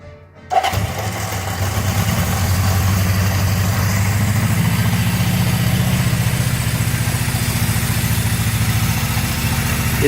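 A Honda CB750F Super Sport motorcycle, freshly restored and jump-started, cranks and catches after a short quiet lead-in, then settles into a loud, steady, close-up idle with an even, throbbing engine rumble for the rest of the clip.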